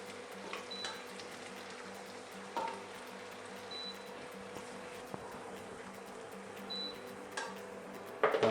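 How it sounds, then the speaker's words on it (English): Chorizo, onions, tomatoes and peppers cooking gently in a pan, a soft, continuous sizzle with a few faint utensil clinks and a short clatter at the end. "the chorizo, onions and tomatoes and peppers have had a few minutes just gently cooking off there"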